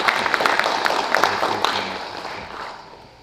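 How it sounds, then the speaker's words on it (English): An audience claps at an anniversary celebration on Labor Day weekend: a dense wash of scattered hand claps, fairly close, that thins out and fades over the final second or so. "everyone deserves a heartfelt round of applause"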